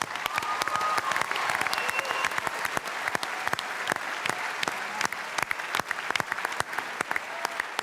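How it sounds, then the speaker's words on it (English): Steady audience applause fills a large event hall during a Telethon closing ceremony, dense clapping from many hands with sharper individual claps standing out, loud and continuous throughout. "Please give them a big round of applause"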